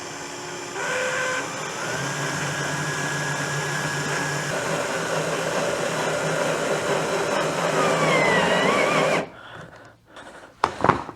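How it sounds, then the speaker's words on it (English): During furniture assembly, a power drill bores a hole with a steady, close whirring grind for about eight seconds, then cuts off abruptly and is followed by a few light knocks and handling clatters. "That thing drilled just about a perfect little hole right there."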